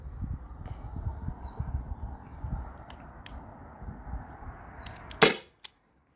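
A single sharp shot from a Byrna SD launcher fitted with a KMotor performance adapter, a loud close pop that cuts through quiet ambient background noise.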